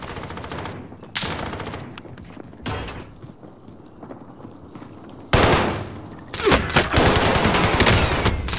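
Rapid automatic gunfire rings out in a battle royale game, loud close bursts broken by quieter gaps, then a sustained heavy volley of shots near the end.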